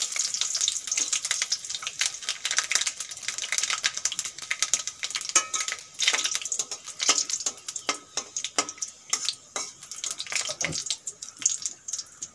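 Panch phoron and dry chillies spit and crackle in hot oil, a dense, busy frying hiss full of rapid sharp pops that keeps up without pause.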